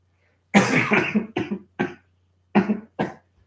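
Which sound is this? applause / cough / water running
cough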